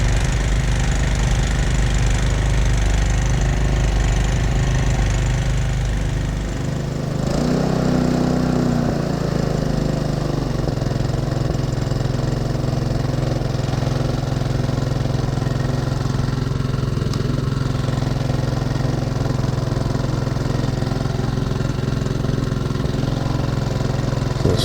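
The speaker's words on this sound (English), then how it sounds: "It's literally just working off electricity generated by the petrol engine." A petrol engine drives a generator aboard a garden railway locomotive, running steadily up close with a loud, even putter and a low rumble from start to finish and a brief dip in the sound partway through.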